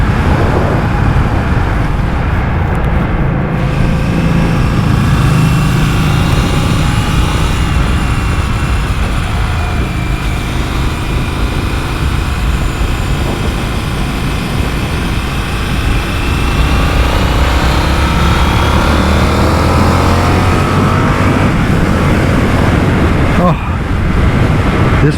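Indian FTR 1200 R Carbon motorcycle being ridden, a loud continuous engine roar buried in heavy wind rush, with rising and falling revs across the run.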